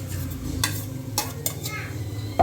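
Masala goes into a pot of chicken sambar and is stirred in, a few sharp scraping strokes of a spoon against the pot over a low bubbling simmer, close and brief.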